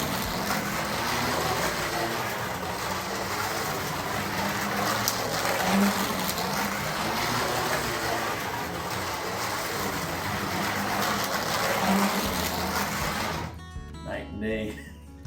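A Carrera Digital 132 slot race car on silicone tires whirs steadily around the track with a continuous buzzing motor drone that fades away near the end.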